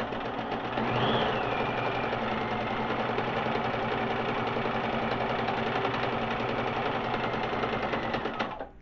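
A Bernina 1008 sewing machine runs steadily through a decorative stitch, a continuous close mechanical whir and hum holding even for several seconds before cutting off at the end.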